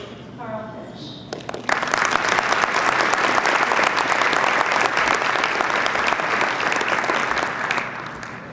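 An audience breaks into warm applause to welcome speaker Karl Fisch at the Ohio Summit on 21st Century Skills, a dense crowd of clapping that follows a few brief spoken words.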